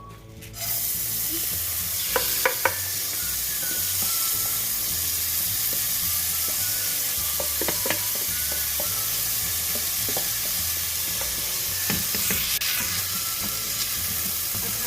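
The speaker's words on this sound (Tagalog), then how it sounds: "ilalagay na natin itong ating hinugasang bigas" Washed rice tipped into a pan of sesame, sizzling steadily and loudly throughout, with scattered scrapes and clicks of stirring close by and no voices.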